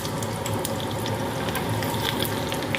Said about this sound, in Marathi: जिरा पण मस्त चांगलं तेल कडकतोय